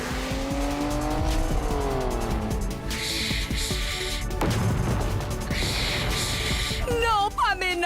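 Heavy cartoon truck from Hot Wheels racing fast: revving engine whine climbing in pitch, tire screeches and skids, short crashing hits, with excited voices and music woven through.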